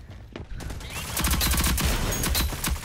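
Rapid bursts of video game gunfire pile into a dense, sustained fusillade, loud and close, with overlapping shots continuing throughout.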